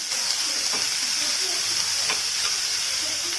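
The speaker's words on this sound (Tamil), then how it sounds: "இப்போ இதோட சேர்த்துட்டு நல்லா அதை வதக்க போகிறோம்" Chopped large onions sizzling steadily in a hot pan, with a constant bright hiss and a few faint scraping stir sounds, no voices.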